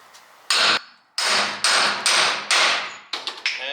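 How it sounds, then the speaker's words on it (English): A hammer strikes sockets to drive out a rear differential bushing on a Nissan 350Z, a run of loud metallic blows in a steady rhythm, then a few quicker lighter taps, close and ringing. "I hate beating on the sockets,"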